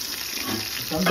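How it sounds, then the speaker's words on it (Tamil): Chopped onions frying in hot oil with cinnamon, cloves and cardamom for a Tamil chicken biryani, a steady close sizzle that grows louder near the end, without speech. "ஆயில் ஊற்றி கொஞ்சம் நேரத்துக்கு அப்புறம் நம்ம நறுக்கி வச்சுருக்க வெங்காயத்தை ஆட் பண்ணணும்."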